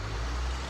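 Dump trucks idling and rumbling just outside a window in New Mexico, a heavy low engine drone that stays steady and fairly loud from start to finish.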